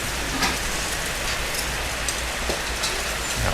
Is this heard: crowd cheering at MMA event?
no